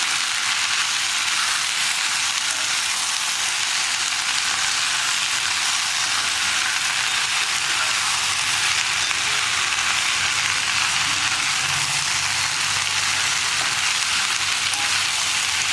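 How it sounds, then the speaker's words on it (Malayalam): Long beans and tender coconut stir-fry in a pan, a constant dense sizzle with faint scraping from stirring underneath, steady throughout and without voices. "ഇനി നമുക്കിതെല്ലാം ചേർത്ത് നന്നായിട്ടൊന്ന് ഇളക്കി മിക്സ് ചെയ്തെടുക്കാം."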